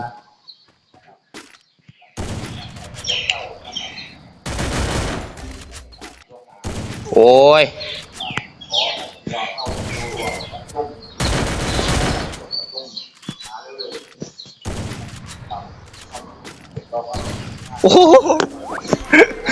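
Loud, repeated bursts of gunfire ring out in the shooting game Free Fire, rapid volleys and single shots spread across the stretch, mixed with game effects while someone talks excitedly over the action.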